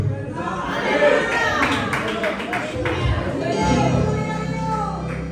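A Spanish church congregation applauding the preacher, soft scattered claps mixed with murmuring, under his voice as he speaks.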